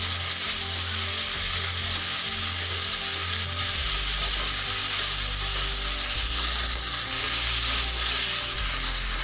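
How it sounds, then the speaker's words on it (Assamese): Meat fries in a pan with ground ginger, garlic, salt and chilli powder, sizzling in a loud, continuous hiss with occasional low scraping of stirring. "এতিয়া মাংসটো যেনেকৈ ভাজি লয় সেনেকৈ ভাজি আছোঁ"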